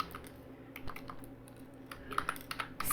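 Quick keystrokes on a computer keyboard while entering Python code, irregular clicks in short bursts, fairly close and at moderate volume with a faint steady background hum.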